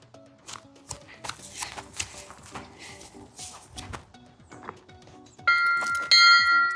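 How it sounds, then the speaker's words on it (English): A bell rung at the fifth hole of a golf course at Evergreen Golf Resort in Cadillac, Michigan, several bright clanging strikes near the end after scattered footsteps and handling noises. "Go ahead and ring that bell."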